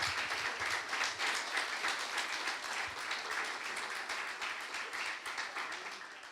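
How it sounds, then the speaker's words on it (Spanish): Church congregation applauding after the pastor's call to praise the Lord, a dense, even patter of many hands clapping at moderate distance, tapering slightly at the end with no speech over it. "Dele un aplauso al Señor."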